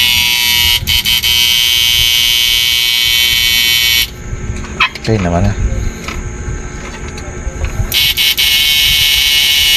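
High, piercing electronic buzzing from an old-model inverter under repair; the loud tone cuts out for a few seconds while someone speaks briefly, then returns.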